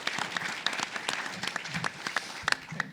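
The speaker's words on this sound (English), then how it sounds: "Let's give Mike a round of applause for that great input." Applause from an audience at an industry workshop conference, a brief burst of scattered clapping at moderate distance, irregular hand claps lasting a few seconds with no talking over it.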